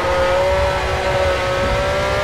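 A Ferrari 512 TR revs in neutral with a loud, sustained high engine note that holds steady for the whole stretch. No voices are heard.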